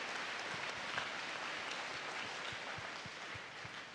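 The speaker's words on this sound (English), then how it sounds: "Let's give them all a round of applause." An audience at a university talk applauding, a soft, dense wash of many hands clapping, even and sustained at a low level with no speech over it.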